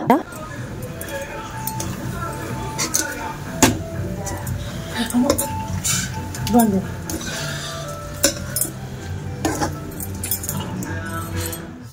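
Eggs being stirred through a masala paste in a home kitchen pan, with the lid then set on: scattered metallic clinks and scrapes of utensil and cookware, a few sharper knocks, under a steady background hum.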